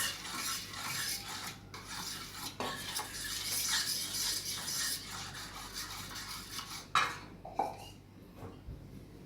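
Cornmeal paste being stirred in a container, close scraping and rubbing strokes in an uneven rhythm, with a couple of sharper knocks near the end.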